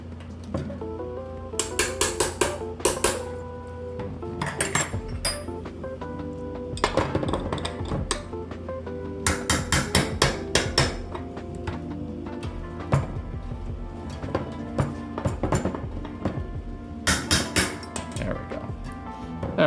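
A metal dust cap is hammered into a 1979 Raleigh Grand Prix bicycle hub with several bursts of sharp, ringing metallic taps separated by brief pauses, close and clear.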